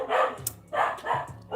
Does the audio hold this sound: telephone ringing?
no